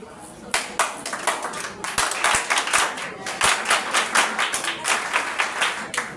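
An audience claps in loose, separate bursts, with sharp individual hand claps falling into a rough rhythmic pattern and getting denser toward the end, close and fairly loud.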